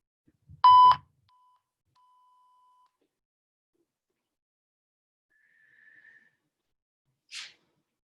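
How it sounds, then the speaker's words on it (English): A single short electronic workout timer beep sounds clearly in near silence, followed later by a faint hum and a brief soft blip. "You'll hear the beep."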